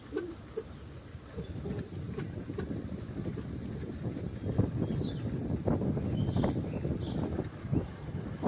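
Steady rushing wind noise buffets the microphone while riding a bicycle fast downhill on a road toward Harar Mahadev, a continuous roar with occasional louder gusts and small rattles.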